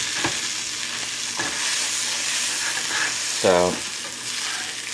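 Hamburger meat fries in a pan with a steady, close, dense sizzle throughout, and a voice briefly speaks near the end.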